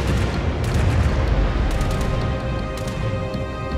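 Heavy naval gunfire and shell booms rumble through a World of Warships team battle as warships trade salvos, with a dense, continuous low roar and scattered sharp cracks filling the whole stretch.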